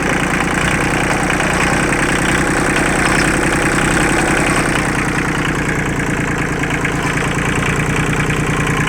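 A Kubota engine with a slack, loosely set throttle idles close by in a steady, knocking chug that continues unbroken throughout with no voices.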